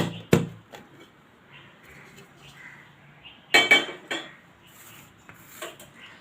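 A knife and a dish clink and clatter as a chocolate cake is taken out of a kadhai, with a sharp metallic knock at the start, then scattered clinks and scrapes, close by.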